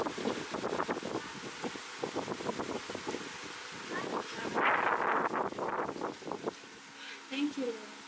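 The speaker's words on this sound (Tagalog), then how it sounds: "Grabe ang hangin!" Strong wind buffeting the microphone outdoors near an open car door, a rough roar that peaks midway, heard under lively talking throughout.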